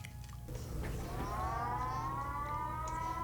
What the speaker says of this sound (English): Well, what's the siren?